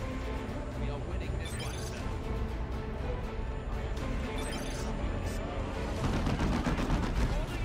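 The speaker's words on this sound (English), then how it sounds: "Basilisk flare." Basilisk artillery fire during a Dawn of War 2: Retribution match, a dense stretch of booming gunfire and explosions that swells louder near the end, mixed with continuous battle noise and game sounds.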